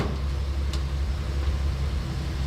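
A rebuilt engine in a 1939 Plymouth Mayflower sedan drones as the car drives, a steady low rumble at moderate level with no voices.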